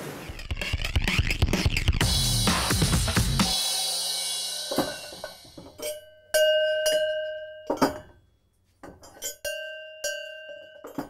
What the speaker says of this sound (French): le son des cloches